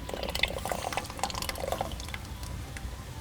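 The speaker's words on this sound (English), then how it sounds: "I'm gonna fill the jar with hot water." Hot water poured into a jar during outdoor cooking, a soft continuous trickle and splash with faint dripping, quiet and close, no voices.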